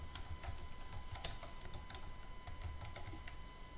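Fingers type on a computer keyboard while entering text into a spreadsheet cell, a faint, close, irregular run of light key clicks over a low steady hum.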